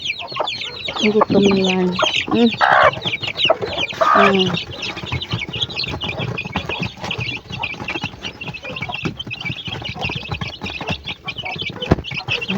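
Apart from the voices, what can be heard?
chicks peeping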